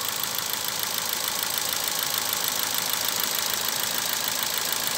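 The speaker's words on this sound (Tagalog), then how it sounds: "Pinapainit lang po natin yung makina" A Ford EcoSport engine idles steadily during warm-up before a spark plug change, a constant mechanical hum with a bright, hissy top end and no talking.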